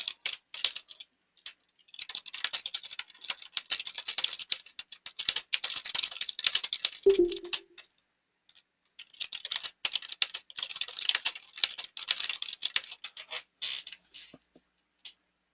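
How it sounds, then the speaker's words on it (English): Fast, close typing on a computer keyboard in two long bursts of dense key clicks, split by a short pause with one dull knock, all faint and without talk. "Well, I better type it."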